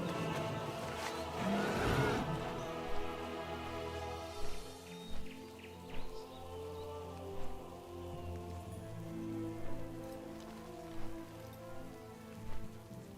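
Steady rain falls in Stormwind in World of Warcraft, a soft continuous patter across the whole stretch, with faint periodic ambient thumps and game sounds beneath it.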